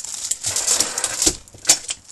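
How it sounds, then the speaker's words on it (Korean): Plastic packaging crinkles as it is unwrapped, with crisp rustling bursts and a few sharper crackles, close and fairly loud, with no talk. "그리고 비닐 소리는 좀 양해 부탁드리도록 할게요."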